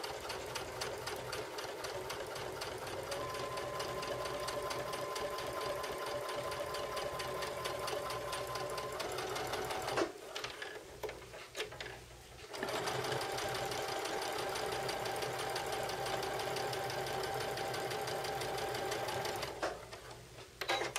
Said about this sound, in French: Alors, on peut tout simplement aller s'installer sur le tissu, s'assurer que nos lignes sont bien au bon endroit et on commence à coudre.